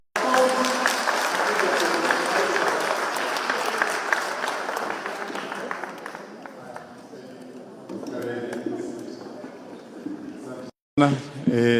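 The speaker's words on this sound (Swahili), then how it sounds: "Kwa makofi sisi sote tumpigie governor." An audience applauds the governor at a county government gathering, with loud sustained clapping and crowd noise that thins out after several seconds, then rises again with a brief gap near the end.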